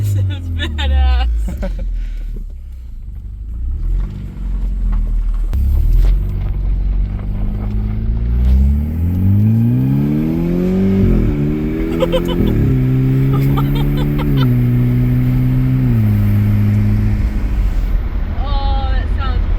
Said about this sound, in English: That's just exhaust.